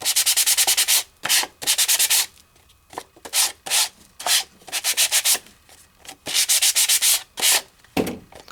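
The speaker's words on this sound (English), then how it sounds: "Or a little bit of a sanding." Rhythmic bursts of sanding on embossed paper, hitting the raised high points: quick back-and-forth rubbing strokes in clusters with short pauses between, close and crisp.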